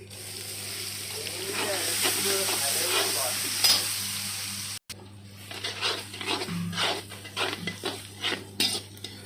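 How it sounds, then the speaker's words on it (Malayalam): Curry leaves crackle and sizzle in hot oil for a fish curry, a steady loud frying hiss broken by a short gap, then spattering pops with utensil scrapes against the pan. "ഇതിലോട്ട് കുറച്ച് കറിവേപ്പില ആഡ് ചെയ്ത് കൊടുക്കുവാണേ."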